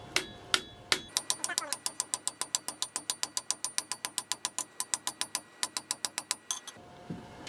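A ball peen hammer strikes a steel shovel blade laid over a dishing form, ringing out in a steady, rapid run of sharp metallic blows close by, after a few slower opening hits.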